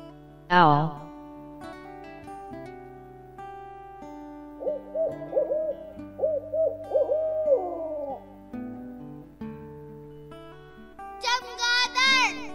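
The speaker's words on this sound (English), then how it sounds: "Owl." An owl hoots in a string of low, rounded calls that rise and waver, heard close against a quiet background, with a higher screechy cry at the end.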